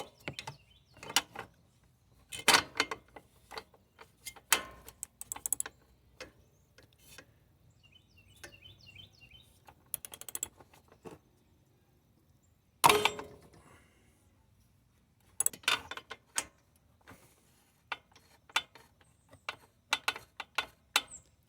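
A 5/8 socket works loose the spark plug on a Craftsman Z6600 zero-turn mower, giving scattered close metallic ratchet clicks and clanks in irregular bursts with quiet gaps between.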